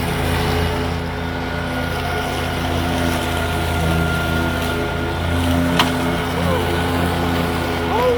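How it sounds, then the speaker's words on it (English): A Walker B23i mower with its mulching deck set high chops through leaves, giving a steady, close engine drone that holds evenly throughout with no talking. "we have the deck set high so the leaves can go under and it can get all mulched up so it doesn't build up in front"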